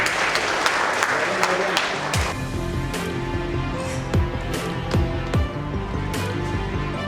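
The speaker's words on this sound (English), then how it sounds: "We welcome this loud applause" Audience applause fills a housing conference hall on consumer protection, a steady wash of clapping with a few sharper claps and room noise standing out.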